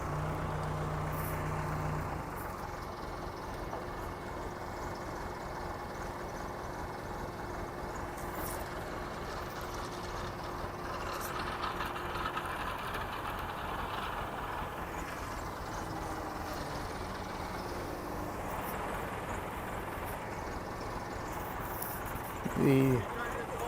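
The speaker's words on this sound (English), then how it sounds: "Somebody looks like they have acquired the help of a neighbor and a bucket loader on a Massey Ferguson tractor." A Massey Ferguson tractor with a bucket loader rumbles steadily down a hill on a rural road, its engine a continuous low drone, with a brief louder clunk near the end and faint talk underneath.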